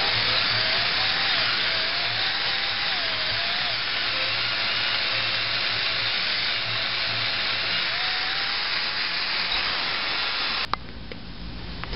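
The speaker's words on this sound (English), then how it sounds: "I have no choice but to drill it freehand and do my best." Steady high-pitched whine of a handheld drill boring a hole freehand through a Z50R motorcycle part, running continuously at close range before cutting out abruptly near the end.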